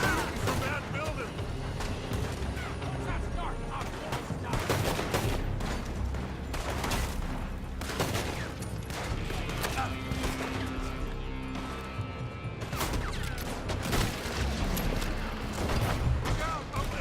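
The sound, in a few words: gunfire in video game Red Dead Redemption 2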